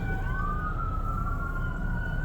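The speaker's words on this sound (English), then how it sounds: "Sirens out on the service road." A fire truck siren out on a service road holds a steady wailing tone throughout, fairly loud but somewhat distant, over a continuous low traffic rumble.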